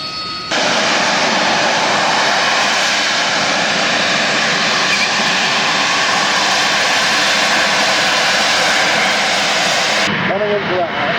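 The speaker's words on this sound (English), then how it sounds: "The next aeroplane, powered by a Pegasus engine, is already moving out onto the runway." An RAF Harrier GR7 jet with a Pegasus engine moves out onto the runway at an air show, its loud, steady roar filling the scene for about ten seconds before cutting off abruptly.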